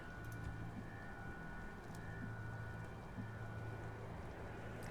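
Steady rain in the XCOM 2 video game falls as a constant soft hiss with faint scattered drops, quiet and unbroken throughout, with no voices over it.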